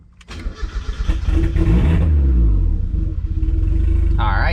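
A car engine cranks and catches after its battery has been charged, settling into a loud, steady idle with a low rumbling harmonic sweep as it fires up close by.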